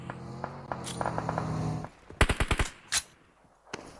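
Gunfire in an esports-style shooter match: a quick burst of five sharp shots, then a louder single shot and a fainter one, after a stretch of softer game ambience.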